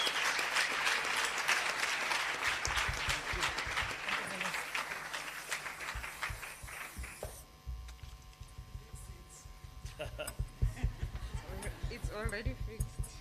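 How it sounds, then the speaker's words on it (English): An audience applauds the arrival of South Africa's Transport Minister Fikile Mbalula at an official event, sustained clapping with speech and crowd murmur mixed in, the claps growing sharper and more scattered toward the end. "give a round of applause as we welcome the Minister of Transport, Honorable Fikile Mbalula"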